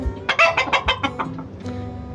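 Chickens cluck close by in a quick run of about ten sharp calls that taper off, with softer background farmyard noise.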